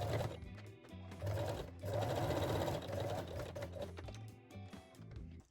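A sewing machine stitches a fabric cosmetic pouch, its motor whirring in short runs with brief pauses between bursts, close and fairly quiet.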